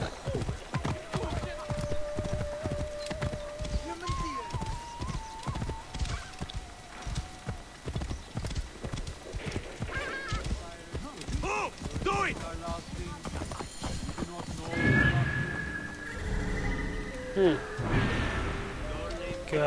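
In Assassin's Creed Origins, a horse trots with rhythmic clip-clop hoofbeats and neighs, set among other game sounds and voices, with louder crashes and whinnies toward the end.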